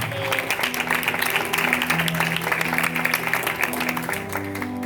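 A church congregation claps in a dense, steady round of applause filling the hall, with organ or keyboard tones sustained underneath.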